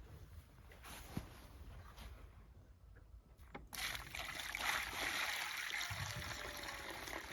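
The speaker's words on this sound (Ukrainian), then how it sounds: "Заливаємо його водою, гарячою водою." Hot water pours in a steady, close, gushing stream onto copper sulfate in a container for a Bordeaux mixture, starting after a quiet moment and continuing to the end.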